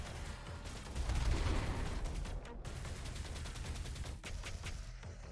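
A plasma gun firing rapidly in a Minecraft recreation of Doom 2016, a fast continuous stream of sharp bursts with a heavy blast near the start and brief breaks before the rapid fire resumes.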